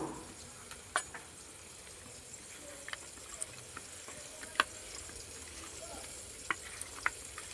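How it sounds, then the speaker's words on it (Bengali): Whole bata fish, rubbed with turmeric and salt, frying in a pan: a steady soft sizzle with occasional sharp pops and spits, fairly quiet and close, with no talk. "গোটা বাটা মাছ ভাজি,"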